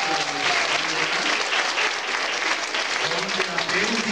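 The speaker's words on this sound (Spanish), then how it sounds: "un aplauso fuerte a su compañera" Participants in a music workshop clap for a classmate, a steady dense burst of applause with voices cheering and talking through it.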